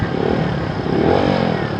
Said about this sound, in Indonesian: Harus digeber-geber dulu karena perlu dipanasin dulu ini motornya.